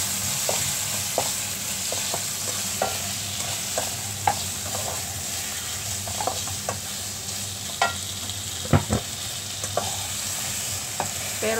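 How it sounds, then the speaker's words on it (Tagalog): Shrimp stir-fried with tomato and egg sizzles steadily in a pan, with a spatula scraping and clacking at irregular intervals, close and clear. "And let's add the hipon. Mix it together."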